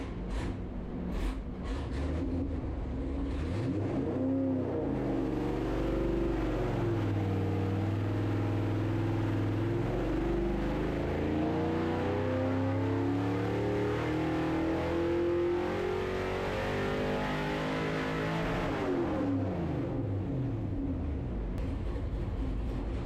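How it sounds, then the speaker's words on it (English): A 6.4 HEMI V8 fitted with a stage 3 camshaft revs hard on a dynamometer: a loud, sustained engine howl climbs in pitch, holds, then winds back down over about twenty seconds. "we finished up the dyno run with the stage 3 camshaft"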